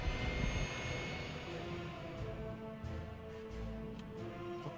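Airplane engines spool up in the city-building game Workers & Resources: Soviet Republic, a steady broadband jet roar with a low rumble that holds throughout and rises slightly in intensity, with no voices over it.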